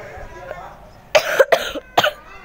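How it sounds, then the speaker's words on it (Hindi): A few harsh coughs come in quick succession, loud and close, after a quiet stretch with faint background sound. "यहाँ पर भी मेरे को खांसी हो गई"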